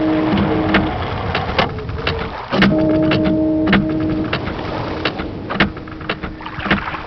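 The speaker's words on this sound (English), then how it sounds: "What you hear are actually bubbles in a toilet." Bubbling water in a toilet used as a Myst game sound effect, a dense churning gurgle with repeated bubbly pops and faint tonal hums, steady and close with no voices.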